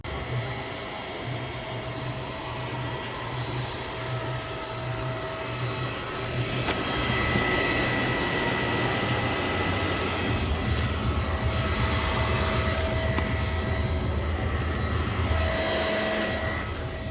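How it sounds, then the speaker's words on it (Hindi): A steady whooshing, fan-like whir comes from the radiator of a Honda CBR 650R motorcycle, a broad continuous noise with a low pulsing hum early on that grows slightly louder midway, with no voices. "जो वियर्ड सी आवाज़ थी वो बेसिकली मेरे रेडिएटर से आ रही थी"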